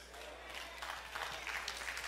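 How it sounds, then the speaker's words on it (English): A church congregation gives a few faint, scattered claps, quiet and distant in a hushed room with a low hum underneath. "See, that's why I got three claps right there."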